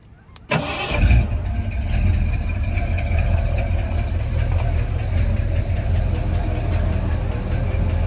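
A Bullnose Ford Bronco engine with a carburetor and a lifter tick cranks and catches, then settles into a loud, steady close-up idle with a busy mechanical clatter.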